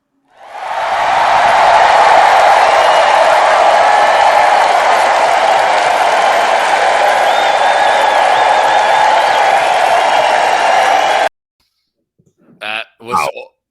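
A loud, dense crowd roar of cheering and applause in a played show intro, sustained for about eleven seconds before cutting off abruptly, followed by brief bits of a voice.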